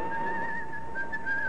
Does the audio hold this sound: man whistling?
yes